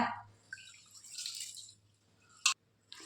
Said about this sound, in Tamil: தண்ணியை வடிகட்டி எடுத்துக்கோங்க